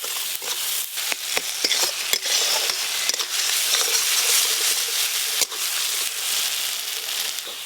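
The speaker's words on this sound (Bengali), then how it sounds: "এই যে মশলা বেশ ভালো করে কষানো হয়ে গেল।" Mustard and dried chilli paste frying in a pan for a river-fish curry, a steady close sizzle with scattered sharp clicks and scrapes of stirring throughout.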